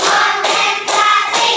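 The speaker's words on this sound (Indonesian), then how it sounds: "kita buat tepuk semangat dulu" Children in a classroom clap in unison, three sharp group bursts in an even rhythm as a spirit-raising clap before a maths lesson.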